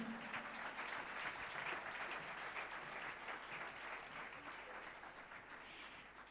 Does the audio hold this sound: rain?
no